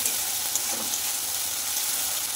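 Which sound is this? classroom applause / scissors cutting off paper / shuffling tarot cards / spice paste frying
spice paste frying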